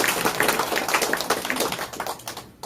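Audience clapping at a corporate presentation and policy briefing, a dense patter of many hands that holds steady, then thins and fades out near the end.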